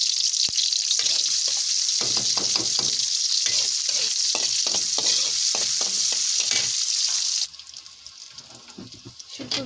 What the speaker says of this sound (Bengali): কড়াইতে তেল দিয়ে দিচ্ছি, এখন পেঁয়াজ দিয়ে দিলাম।